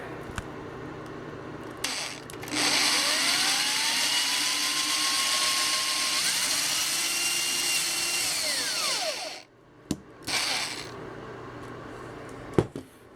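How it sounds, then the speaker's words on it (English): A power drill bores holes through a blue interior door panel, painted black, on a Dart Swinger 340, one long steady run that rises and falls in pitch, then a brief second burst, with no talking. "then we will drill the holes in the blue"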